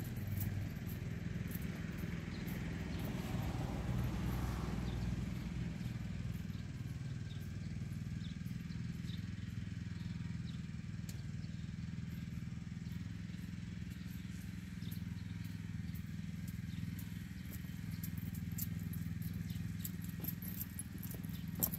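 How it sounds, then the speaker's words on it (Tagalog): A small engine drives a garden water pump during tomato watering, running as a steady low drone throughout, fairly faint and mechanical with a faint clatter. "Para ma-testing po yung makina din"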